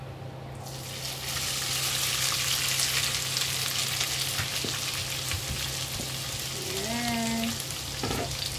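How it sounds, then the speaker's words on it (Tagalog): Leftover grilled chicken fries in a pan with a loud, even sizzle that swells after the first second and holds steady, with a few utensil taps and a brief spoken word near the end. "Pa-fry natin yung chicken. Para mag-brown."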